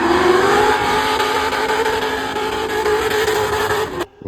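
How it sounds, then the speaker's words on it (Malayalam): An old BMW M3 drift car at a Qatar racing club event, its engine holding a loud sustained high rev with a steady drone and a sudden drop at the end, heard up close. "BMW എത്തി മോനെ. പഴയ M3 തോന്നുന്നു."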